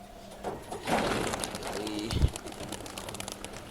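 Pigeons being chased off a rooftop loft, with a burst of flapping wings and soft cooing over background noise, a sharp thump partway through and faint speech nearby.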